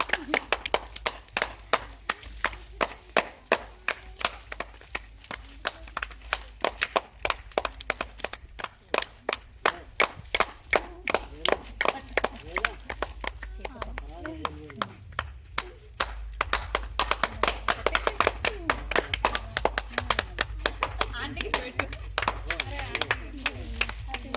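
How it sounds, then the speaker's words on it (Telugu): A crowd claps in a fast, steady rhythm at a Mother's Day celebration in Aditya Colony, Devarakonda town, continuing for over twenty seconds with people talking over it. "క్లాప్స్ కొట్టండి కొట్టండి కొట్టండి"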